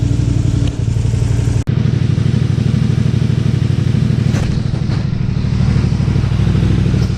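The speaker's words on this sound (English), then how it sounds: "So we've run the bike right up and our fuel leak has disappeared." A Honda Spada motorcycle engine runs steadily and loudly up close, with a rapid even idle pulse, mechanical clatter and one brief sharp drop partway through.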